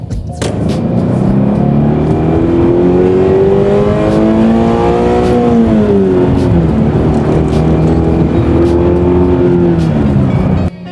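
Toyota GR86 with a naturally aspirated engine revving up toward 7,500 RPM, a loud, sustained, close engine note whose pitch climbs, dips and climbs again, with no talk over it.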